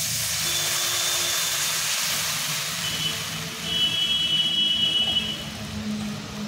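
Sugar syrup of sugar and water boils on the stove, a broad, steady steamy hiss and bubbling close by, with faint whining tones drifting in and out.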